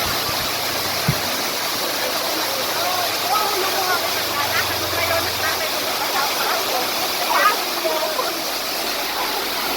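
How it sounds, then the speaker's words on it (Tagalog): A constant, broad rush of a waterfall fills the scene, loud and close, with faint voices and brief thumps underneath. "Bumabagsak ng tubig"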